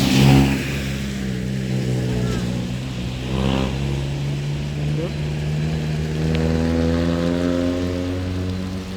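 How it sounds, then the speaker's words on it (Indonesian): A Hino single-axle truck engine labours up the steep Kedabuan hill climb, a loud, rising and falling harmonic drone as it revs under load, with speech in the background. "Ini truk Hino engkel nih bosku, makanya gasing di tanjakan Kedabuan ini."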